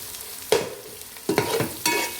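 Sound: ginger garlic paste being stirred and fried in a pan

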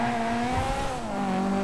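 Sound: Dinka Blista Compact car engine in a video game

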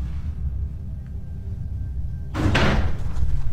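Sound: door slamming shut

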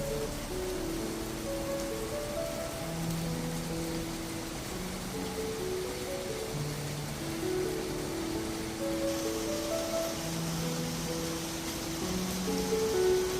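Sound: rain falling on potted plants on a deck

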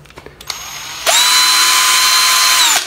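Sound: electric two-function drill being test run

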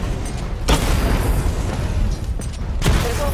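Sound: missile barrage explosions in video game Batman: Arkham Knight

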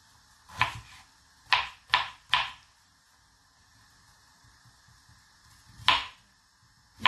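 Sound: knife dicing potatoes into small cubes for sorrel soup

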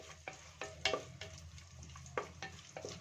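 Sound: green chillies frying in a pan

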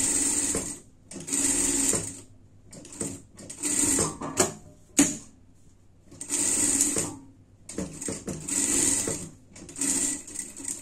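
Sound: sewing machine stitching a seam on a dress sleeve

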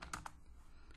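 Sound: typing a telnet command on a computer keyboard

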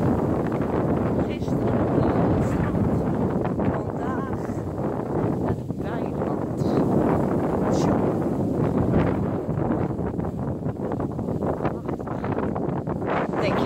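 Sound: strong wind

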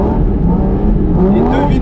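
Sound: Porsche GT4 RS engine revving to 9000 rpm on e-fuel

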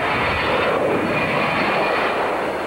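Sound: aircraft jet engine thrust

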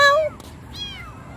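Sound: cat meowing

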